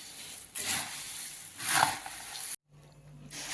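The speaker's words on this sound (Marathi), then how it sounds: "छान आपण आता मिक्स करून घेऊ सगळं छान आपल्याला मिक्स करायचं आहे" Puffed rice chivda is stirred and tossed in a pan, giving two soft rustling, sizzling sweeps with a short quiet gap near the end.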